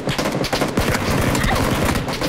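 Rapid gunfire in PUBG during an end-game fight, a dense volley of sharp shots cracking in quick succession, loud and continuous across the moment.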